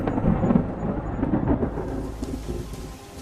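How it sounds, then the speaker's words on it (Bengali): Heavy thunder rumbles through steady rain, a deep rolling crash that slowly fades, with no voices. "সেই দিনে ছিল বৃষ্টি ভেজা দিন"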